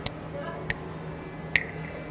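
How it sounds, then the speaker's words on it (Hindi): Three crisp finger snaps spaced irregularly over a steady background murmur, sharp and fairly close. "ब्रह्मलोक में जैसे अपने चुटकी बजाते ना"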